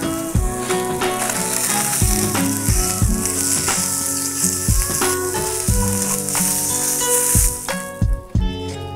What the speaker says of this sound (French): Pour la sardine, il suffit simplement de la griller avec un peu d'huile.